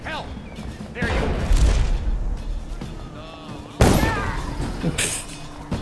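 Gunshots ring out in a stealth game set in a slaughterhouse, with a couple of loud, sharp bangs standing out amid game noise while in-game voices talk over the action.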